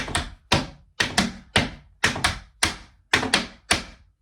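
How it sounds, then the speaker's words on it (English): Crisp tap shoe strikes from a 3-beat progressive shuffle in an intermediate tap class, a steady repeating rhythm, groups of quick sharp clicks roughly every half second, close and loud with no talking. "So that is your 3-beat progressive shuffle."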